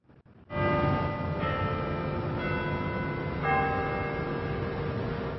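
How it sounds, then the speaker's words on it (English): Bells ring from the Tillman Hall tower, loud and clear, several sustained tolls overlapping into a rich ringing tone that continues steadily after a quiet start. "The bells ring out from Tillman Hall is loud and clear"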